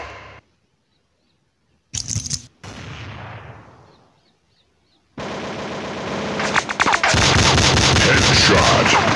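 Mobile shooter Critical Strike GO lets out a short burst of automatic gunfire with a fading echo, then a pause before sustained, loud, rattling machine-gun fire takes over for the final seconds.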